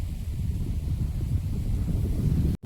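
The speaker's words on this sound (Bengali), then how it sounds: "হাওয়াটা যে কতটা জোরে হচ্ছে আপনারা এই ঘাসটা নাড়া দেখলে বুঝতে পারবেন।" Strong wind gusting across an open field, shaking the grass, heard as a steady loud rumbling roar of wind buffeting the microphone throughout, cutting out abruptly near the end.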